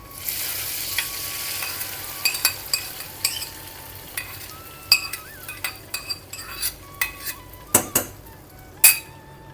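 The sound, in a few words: pouring and stirring dal curry into pan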